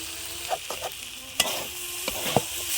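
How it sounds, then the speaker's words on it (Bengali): Sliced beetroot, potato, kohlrabi and green chillies fry in a pan, a close steady sizzle broken by several scraping stirs and clinks, with no voices. "ওলকপি, একটা বিট, আলু, কাঁচা লঙ্কা দুটো নিয়েছি কেটে ভেজে নেব।"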